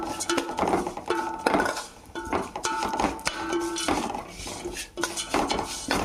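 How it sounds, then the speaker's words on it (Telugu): Vermicelli being fried in a pan for mango sago payasam, heard as steady clinking and scraping of a metal spoon against the pan, with repeated sharp contacts close by and no talk. "అవి కూడా మంచి కలర్ వచ్చిన దాకా ఫ్రై చేసుకుందాం."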